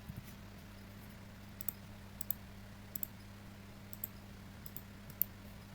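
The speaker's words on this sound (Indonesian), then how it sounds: "Kita ketik" Sparse clicks from a computer keyboard and mouse, a handful of light taps at irregular intervals over a quiet room hum, close and faint.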